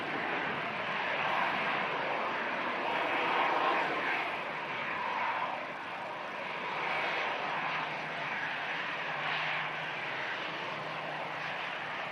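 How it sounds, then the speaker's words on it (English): An Airbus A380, the world's largest passenger jet, comes in to land at Manchester Airport with its gear lowered, a steady broad roar of jet engines holding at a constant loudness for the whole stretch, with no talking over it. "There is the biggest passenger aircraft in the world."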